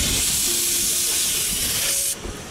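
A loud, steady hiss of venting steam from a narrow-gauge steam train on the Ventspils line in Latvia, rushing and continuous, that abruptly cuts off near the end, leaving a quieter rumble.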